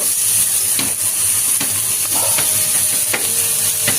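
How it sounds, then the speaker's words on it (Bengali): Vegetables frying in a hot wok, a loud continuous sizzle with occasional scrapes and knocks of a stirring spoon against the metal. "সবজিগুলো ভাজা ভাজা হয়ে গেছে আমার।"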